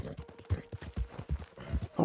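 Horse hooves gallop in Red Dead Redemption 2, a rapid, rhythmic clip-clop of quick thuds at moderate volume that runs throughout the short stretch.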